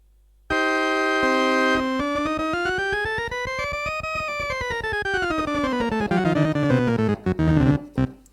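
A Philicorda GM751 electronic organ powers on with a sustained chord whose pitch swoops upward, then slowly sags downward, wavering and breaking up near the end.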